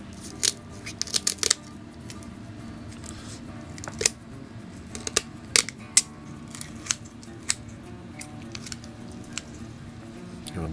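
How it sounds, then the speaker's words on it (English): Kitchen shears snip along both sides of a raw turkey's backbone, with repeated sharp crunching cuts in uneven bursts, close and clear over a quiet room. "we're gonna run these up both sides of that spine"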